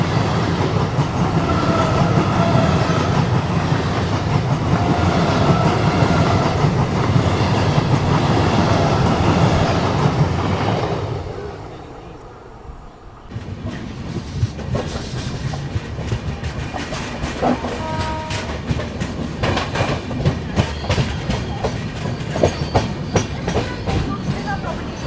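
A Hyderabad local train rolls past alongside on the outer approach, loud rumbling and clickety-clack close by, then a brief lull before wheel clatter and squeals resume from a passing carriage line; no talk.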